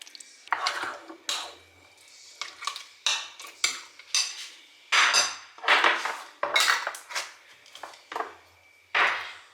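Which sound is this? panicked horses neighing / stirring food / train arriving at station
stirring food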